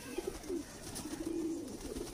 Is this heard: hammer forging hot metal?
no